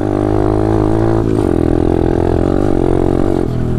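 A pit bike's small engine drones loudly and steadily while being ridden over rough, rocky ground, with a brief rise in pitch as it revs.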